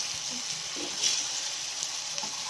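Fish pieces coated in chili powder fry in a pan, giving a steady, soft hissing sizzle throughout with faint small pops and scrapes.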